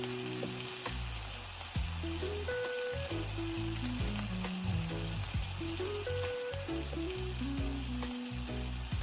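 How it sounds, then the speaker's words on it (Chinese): Pan-fried pork buns crackle and sizzle in a covered pan with a little added water, a constant dense frying hiss heard up close beneath background music. "用小火煎一下底部，接着加入一點水，蓋上鍋蓋，用蒸的方式把裡面煮熟。"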